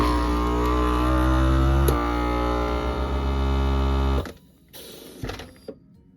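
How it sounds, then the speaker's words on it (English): A countertop vacuum sealer runs with its accessory port and hose attachment drawing air, a loud steady motor drone with a buzzing hum for about four seconds before it cuts off, followed by quiet clicks and handling noises. "You're going to turn on your vacuum sealer and hit accessory."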